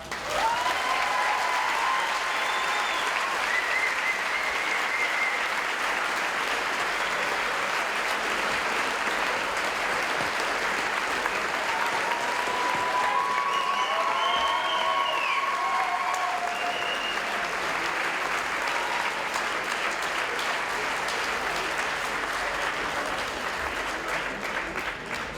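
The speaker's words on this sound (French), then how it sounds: "je vous remercie d'applaudir avec moi Monsieur Daniel Chatagny." A long, sustained round of applause from the audience at a vocational diploma ceremony, dense and even for the whole stretch, with faint whistles and a few distant voices mixed into the crowd.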